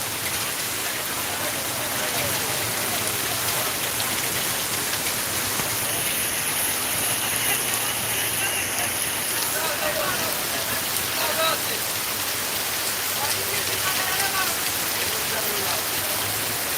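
Heavy night rain pouring in Sylhet, a dense continuous hiss and patter of drops on surfaces, steady and loud for the whole stretch with no clear voices.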